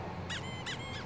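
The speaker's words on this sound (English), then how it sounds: "Emit an adorable squeak." Squeaky toy shoes on a character in the Bloodstained video game give three bright rubbery squeaks, one for each step, evenly spaced and close over a low steady game background.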